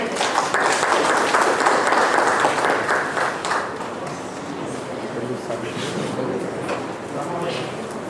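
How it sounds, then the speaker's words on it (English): An audience at a faculty development programme session at BMSCE, Bangalore gives a round of applause, a dense burst of clapping that is loud at first and then thins and fades toward the end. "Please give a big round of applause to both."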